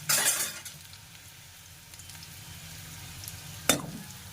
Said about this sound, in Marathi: जिरे चांगले तडतडले की त्यानंतर मग लसूण टाकून द्यायचं